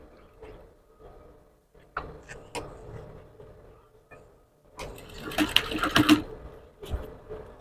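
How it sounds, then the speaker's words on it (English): A sewing machine stitches the curved cup of a dartless cupped corset, starting with scattered light taps and handling noises and building to a louder, denser whirring run near the end. "and then I'll start stitching."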